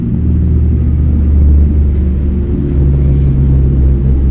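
Steady road traffic beside a roadside phone repair counter, with cars and motorbikes passing close by as a continuous loud low rumble that swells and eases without a break.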